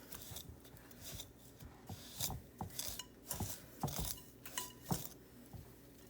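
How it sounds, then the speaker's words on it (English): Dark brown and white sugar creamed together by hand for buttermilk chocolate chip cookie dough, giving repeated gritty scraping and rubbing strokes at a steady, moderately quiet rhythm, with no talking. "And then you just kind of want to cream this together."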